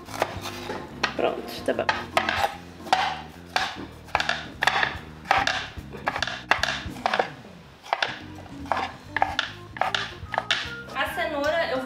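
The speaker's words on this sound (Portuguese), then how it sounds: "eu vou dar uma repicadona assim, ó. Bem rústica aqui, ó." Vegetables chopped roughly with a knife on a board while cooking a vegan risotto, a steady run of crisp, close knife strikes with an uneven rhythm, under intermittent talking.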